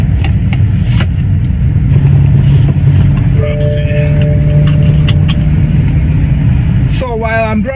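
Steady, loud hum of a car driving on the road in Cyprus, a constant engine and road rumble from inside the cabin, with a brief electronic tone partway through.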